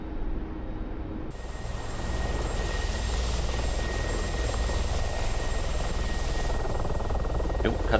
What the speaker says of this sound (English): Mein Heli macht komische Sachen.